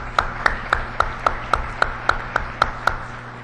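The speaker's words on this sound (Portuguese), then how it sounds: "que eu também peço uma salva de palmas" A few people applaud a professor at an academic talk on cooperation networks and local production clusters, with about ten distinct, evenly spaced claps ringing out sharply in a quiet room with a low steady hum.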